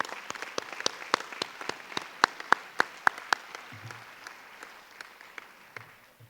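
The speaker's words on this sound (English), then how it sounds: "Please give them your support with a round of applause." Applause from an audience at a forum on teen alcohol and substance use: a modest crowd of sparse, distinct claps, moderately close, lasting several seconds before thinning out, with faint low murmuring near the end.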